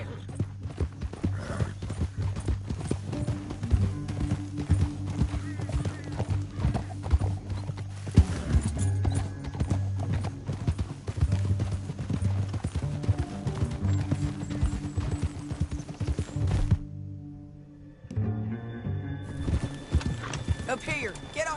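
Horse hooves clip-clop steadily in Red Dead Redemption 2 as riders travel together, a continuous rhythmic trot under game music and dialogue, with a whinny near the end and a brief pause before the hoofbeats resume.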